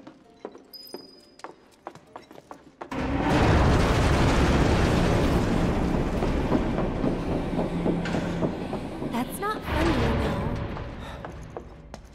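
In Final Fantasy VII Remake, the Sector 7 train starts with a sudden loud roar about three seconds in. It carries on as a dense rumbling clatter with squeals and bangs, after faint clicks and chimes in a quiet lead-in.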